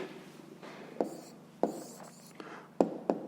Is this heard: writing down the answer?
yes